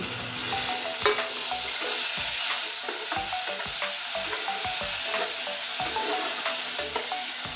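Chopped tomato hitting frying capsicum in a pan gives a constant close sizzle, with light stirring taps scattered through it and no talking.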